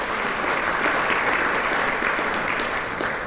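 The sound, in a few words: audience applause for sponsors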